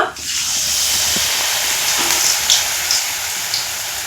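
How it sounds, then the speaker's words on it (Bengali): Spring bitter gourd (karela) dipped in batter fries in hot oil in a kadai, a loud, steady hiss and bubbling sizzle close by, with a few faint crackles and no talking. "আমি কড়াতে তেল বসিয়ে দিয়েছি এখন এই স্প্রিং করলাটা এই তেলে ডুবিয়ে দেব"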